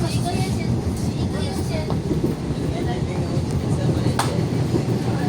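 Steady low rumble inside a moving sleeper train's standard class carriage, with faint clicks and rattles over continuous broadband noise; a voice speaks throughout.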